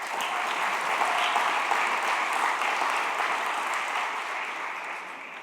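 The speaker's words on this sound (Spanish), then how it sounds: "Un aplauso para Jason." A congregation gives sustained applause for Jason during a pastor's sermon, a dense, even clapping that fills the room and tapers slightly toward the end.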